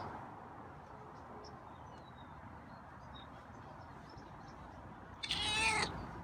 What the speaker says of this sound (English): Oh, got another meow.